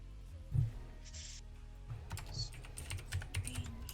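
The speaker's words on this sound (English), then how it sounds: "So you got the sound of like 10 keys going off at the same time" A computer keyboard clatters with many keys struck at once in quick bursts, a single thump first and then a rapid run of close, crisp clicks.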